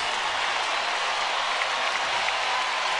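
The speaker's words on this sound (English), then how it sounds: "Crowd getting into it." A baseball crowd roars steadily in Houston's stadium during a Mets–Astros game: a broad, continuous wash of cheering and clapping from many people at a distance.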